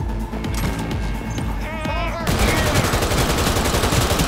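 Rapid gunfire from the video game Cyberpunk 2077, a dense burst of shots that becomes a loud, continuous automatic volley in the second half, close and harsh with a tonal game effect mixed in beforehand.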